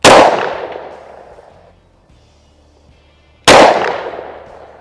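A Springfield XDM Elite 10mm pistol fires two loud, sharp shots about three and a half seconds apart, each cracking close by and ringing out in a long echoing decay.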